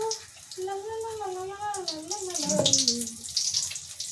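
Potato bajji (aloo bajji) fry in hot oil, a close bubbling sizzle that grows louder toward the end. A wavering tonal voice-like sound runs over the first half.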